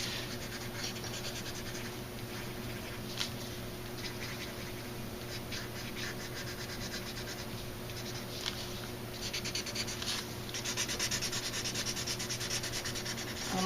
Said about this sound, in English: there's enough carbon on my blending stump and on the paper that I can just move the carbon around to where I want it